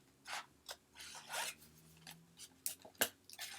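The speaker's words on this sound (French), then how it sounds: "Je découpe ce qu'il y a à découper." Paper being cut along a fold with scissors on a multi-purpose scoring board: a series of short, raspy snipping and rustling strokes, close and quiet, irregular in rhythm with brief pauses between cuts.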